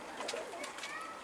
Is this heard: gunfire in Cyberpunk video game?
no